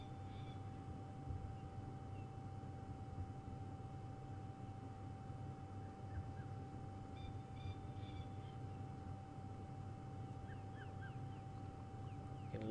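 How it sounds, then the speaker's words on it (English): A coqui francolin screeching in the distance on an evening safari drive in the African bush, faint harsh calls over a steady low engine hum and a constant tonal drone, with other birds around. "That sort of screeching sound you just heard, that's from a francolin, called a coqui francolin."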